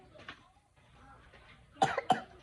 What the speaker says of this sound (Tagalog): May ubo ka?